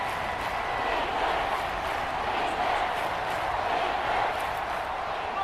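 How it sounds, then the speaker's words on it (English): Simulated football stadium crowd at a Steelers versus Dolphins game in Madden 24, a steady, dense roar of many voices with a bright wash of noise that holds level throughout, no commentary over it. "This crowd doing all they can."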